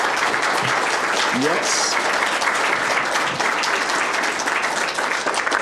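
Audience applause fills a school board meeting, steady dense clapping throughout as an elementary school principal is welcomed forward, with a voice speaking briefly over it.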